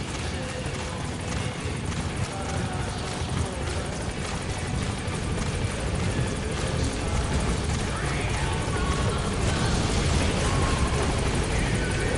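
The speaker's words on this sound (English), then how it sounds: "Support helicopter has arrived." A support helicopter in Metal Gear Solid V arrives at the landing zone, its rotor beating in a steady, loud, continuous whir that holds for the whole stretch with no talk over it.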